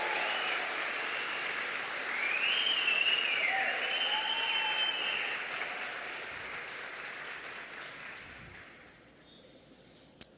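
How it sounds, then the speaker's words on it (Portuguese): Church congregation applauding during a sermon, a sustained broad clatter of many hands that fades gradually toward the end, with faint whistles riding over it. "Pode aplaudir, pode aplaudir, pode aplaudir"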